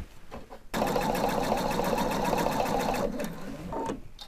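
A sewing machine stitches a collar with a stand, running at a steady rapid clatter for a little over two seconds after a quiet start, then slowing and stopping with a short final burst.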